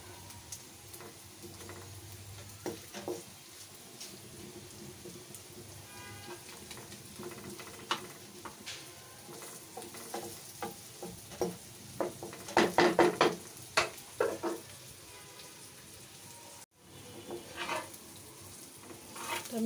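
Spoon stirring chicken curry ingredients together in a pan, with steady sizzling from the hot oil and scattered scrapes and clinks against the metal, growing busier and louder midway before settling again.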